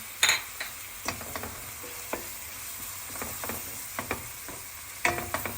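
Flour roasting with onion and grated carrot in a pot for chicken vermicelli soup, a soft low sizzle punctuated by scattered spoon scrapes and knocks against the pot.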